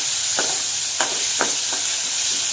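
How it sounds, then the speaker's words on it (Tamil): Chillies fry in hot oil with a steady hissing sizzle, broken by a few sharp crackles and stirring scrapes spaced about half a second apart. "மிளகாய் நல்லா வறுத்துட்டோம்"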